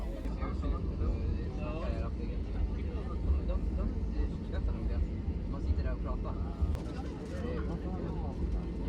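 Inside the cabin of an SAS Airbus A320 taxiing back to the terminal, a steady low engine rumble and airflow drone fills the space, with people talking throughout.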